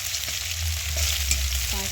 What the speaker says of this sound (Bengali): এখানে পেঁয়াজগুলি ভাজা ভাজা হয়ে যাচ্ছে।